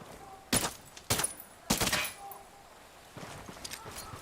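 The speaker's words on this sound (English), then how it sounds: "Open fire." Gunfire in Ghost Recon Wildlands: three sharp loud bursts about half a second apart, then quieter distant shots trailing off near the end, with no talk over them.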